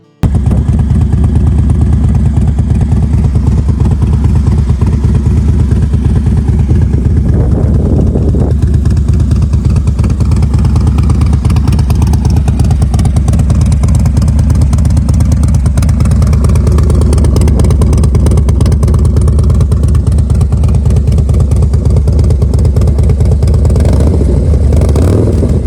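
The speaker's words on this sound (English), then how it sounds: "2009 Harley Davidson Dyna." A 2009 Harley-Davidson Dyna motorcycle engine runs steadily for the whole stretch, a loud, close, continuous low rumble with no voices over it.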